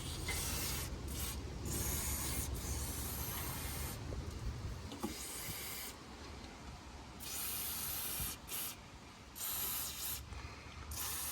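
Belt conditioner sprays in several short hissing bursts onto the engine belts of an old plow truck, separated by pauses and a faint mechanical rubbing, close and fairly quiet.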